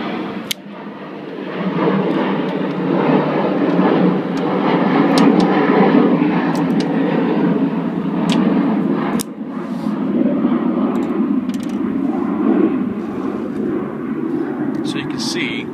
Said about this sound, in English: so there may be a few planes flying over.